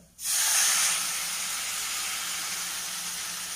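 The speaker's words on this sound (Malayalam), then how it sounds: "ഓട്സ് ഇട്ടതിന് ശേഷം 2 കപ്പ് വെള്ളം ഒഴിച്ചു കൊടുക്കുക" Water poured into a hot pan holding roasted oats and dates for a payasam hisses and steams loudly, a sudden burst that settles into a steady sizzling hiss.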